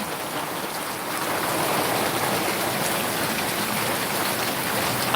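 Steady rain falls over rural countryside with water pooling on the roads, a dense, even hiss of drops that swells slightly after the first second and holds, close and alone with no voices.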